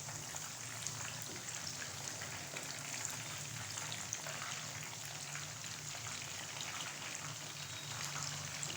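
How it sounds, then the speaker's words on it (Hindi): Masala fish fries in a pan while cooking on its second side, giving a steady, even sizzle and crackle that runs unbroken throughout with no voices. "अब हम फ़िश को दूसरी साइड से 4 मिनट के लिए पकाएंगे"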